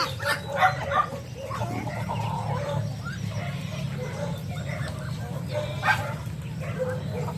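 Several dogs bark in short bursts from different distances, overlapping yips and barks over a steady low background hum.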